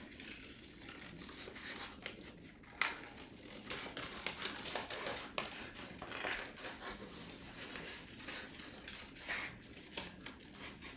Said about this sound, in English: So now try to go back through and just cut out that shape.